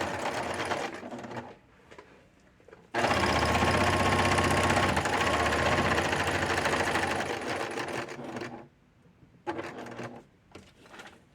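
A sewing machine stitching through paper for tag book binding runs loud and steady for several seconds, whirring and rattling, with shorter quieter bursts before and after.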